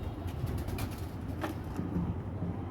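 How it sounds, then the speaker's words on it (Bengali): Soft low cooing of pigeons in a loft late at night, a quiet murmuring hum with faint rustles, steady and close with no talking. "শেষ রাতে কবুতরের এই আমাদের শুভ্র মাহমুদের কবুতর"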